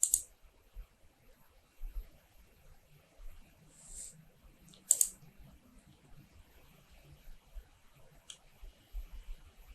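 Computer mouse clicks on the Windows 10 taskbar, a few sharp, brief, quiet clicks spaced several seconds apart over faint background hiss.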